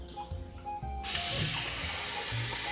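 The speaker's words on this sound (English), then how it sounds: "I'm gonna be adding 6 cups of water." Water poured into chickpea flour for Sicilian panelle: a broad, steady rushing pour begins partway through and continues to the end, close and fairly loud, with a faint earlier trickle beforehand.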